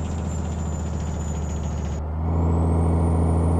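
A heavy truck's Jake brake engages in Euro Truck Simulator 2, a loud, steady engine-braking drone with a rising whine, heard alone without talk.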